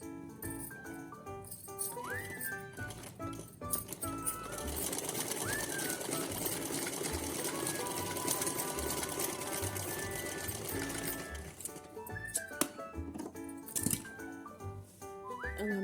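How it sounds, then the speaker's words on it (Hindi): A sewing machine stitching along twice-folded fabric edges while making a small outfit for a deity figure, running in a steady close whir that lasts most of the stretch, with short pauses and handling noises at either end. "अब यहाँ हम पूरे में सिलाई लगा लेते हैं।"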